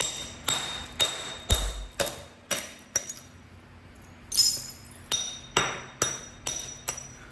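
Flintknapping a Coastal Plains Pickwick point, with stone struck to remove flakes: about a dozen sharp, glassy clicks in a fairly steady rhythm, close and crisp against a quiet background, with no speech.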